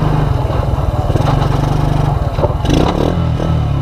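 A 2001 Suzuki Quadrunner 250 4x4 ATV engine idles and revs loudly up close with a sticking automatic clutch, a steady low motor drone with rattling and clattering mechanical noise over it, no voices.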